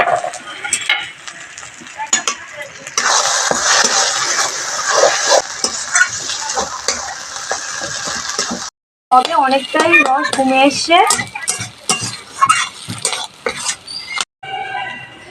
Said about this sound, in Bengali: সব কিছুর সঙ্গে ভালো করে মিশিয়ে নেব।